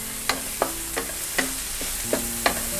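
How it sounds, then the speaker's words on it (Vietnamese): Minced shallots and garlic stir-fried in cooking oil give a steady close sizzle, punctuated by sharp scraping and clinking stirs at irregular intervals, with no talking. "Cho hành tỏi băm nhỏ vô ha các bạn, xào cho nó dậy mùi lên."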